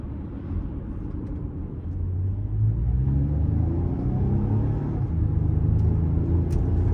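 Interior drone of a 2017 Toyota Highlander SE AWD with about 128,000 miles on the road, a steady low engine and road rumble that swells as it pulls away and rises through the gears, no talk.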